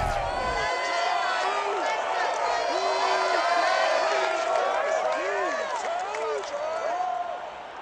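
A stadium crowd of about 65,000 at Ford Field, Detroit, roars and whistles steadily for a Bears–Lions game in an EA Sports NFL video game, while a commentator talks over it.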